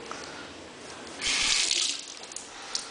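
A push-button water-saving tap in a hotel-style washbasin releases a short portion of running water that swells in, splashes steadily for under a second, then fades back to a quiet hiss.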